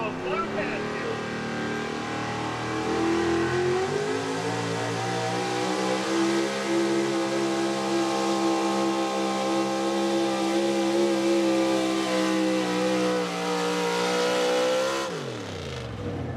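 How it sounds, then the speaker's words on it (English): A 1993 Chevy gas 4x4 pulling truck from Rector, Pennsylvania roars loud and sustained at a truck pull, engine climbing steadily in pitch for about fifteen seconds before cutting off abruptly, with an announcer's voice mixed faintly in. "You, driven by Tracy Troy, a 1993 Chevy from Rector, Pennsylvania."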